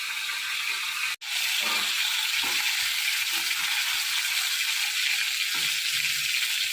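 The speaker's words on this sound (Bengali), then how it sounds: "এখানে মাছ ভাজা হচ্ছে।" Fish fries in a pan with a loud, even, close sizzling hiss that runs throughout, after a brief cut near the start, with a few faint low knocks underneath.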